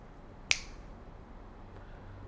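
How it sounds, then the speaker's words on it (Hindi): A single crisp finger snap rings out sharply and close once, standing alone against a quiet, faintly hissing room with no talk around it. "चुटकी बजाने में तो देर लगती है।"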